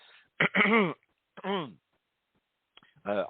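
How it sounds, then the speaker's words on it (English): Repeated throat clearing and short coughs from someone with a very sore throat, three separate bursts with quiet gaps between, close and fairly loud. "You can already tell with the coughing and the throat clearing kind of what I'm experiencing now."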